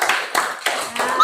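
A class claps hands in a quick rhythmic pattern of several short bursts, with voices mixed in, in an Indonesian classroom.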